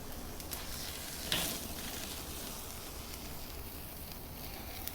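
Lava steak sizzles in oil over a flame grill, a constant crackling hiss at a moderate distance with one brief sharp flare and no voices.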